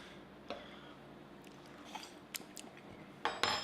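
Hollandaise sauce being mixed in a pan, with faint, scattered scrapes and clinks of a utensil against the pan, growing a little louder and busier at the end, with quiet room background.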